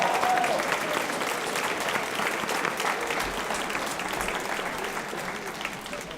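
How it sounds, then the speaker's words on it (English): A large crowd applauds at a senior symposium, producing a continuous, thick roar of clapping that stays steady throughout and fades only slightly toward the end. "Round of applause."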